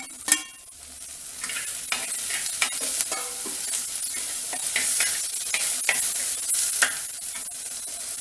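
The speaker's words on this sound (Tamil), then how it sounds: "தக்காளி நல்லா வதங்கட்டும்" Tomatoes sauté with onion, garlic and curry leaves for a drumstick and mango sambar, a steady close sizzle with repeated stirring scrapes and clinks running through the whole stretch, no voices.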